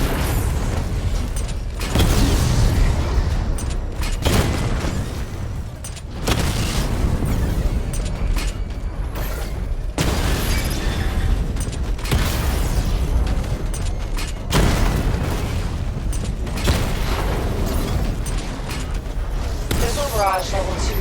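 Secondary weapon barrage from the Batmobile in Batman Arkham Knight, a simulation test: repeated heavy booms and bursting explosions in several loud waves, with mechanical whirs and clanks between them and no break in the dense racket.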